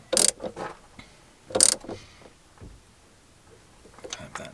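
Ratchet cranking down the battery clamp on a Chevy van's hold-down at the battery's bottom lip, a few sharp close clicking bursts spaced apart with quiet gaps, and a voice speaking briefly between them.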